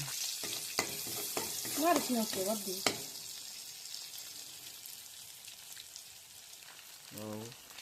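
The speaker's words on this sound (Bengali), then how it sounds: "একটু কড়া করে ভাজবেন, তাহলে একটু বেশি মজা লাগবে" Noodles with egg fry in a pan with a soft crackling sizzle and a few scraping stirs, a voice speaking briefly early on and again near the end.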